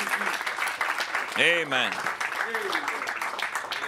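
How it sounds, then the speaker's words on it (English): Church congregation applauding in praise, a steady mass of clapping under voices, with someone calling out over it partway through. "Let's give him a hand clap of praise."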